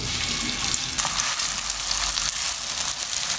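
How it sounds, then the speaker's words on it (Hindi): Finely chopped onions dropped into lightly heated vegetable oil: a low background hiss jumps into a loud, bright, continuous sizzle about a second in, close up and without speech. "ऑयल हल्का सा गर्म हो चुका है, हम इसमें बारीक कटी हुई प्याज डाल देंगे।"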